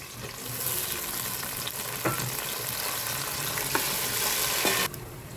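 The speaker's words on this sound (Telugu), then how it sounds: "ఆకులు, ఉల్లిపాయలు అన్నీ ఫ్రై అయినాయండి" Onions, green chilies, curry leaves, mint and coriander sizzle steadily in hot oil in a pan, a continuous loud frying hiss with a few clinks of stirring, no talk.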